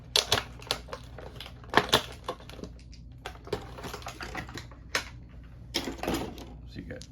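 Dice and small game pieces from the Golem Arcana core set board game are handled and taken out of the box, giving a series of sharp clicks and rattles close up, in scattered bursts.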